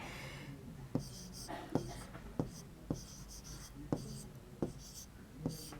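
Pen or pencil writing on paper during a Class 3 maths lesson, a soft continuous scratch broken by about seven sharp taps or strokes at roughly even intervals, close and quiet.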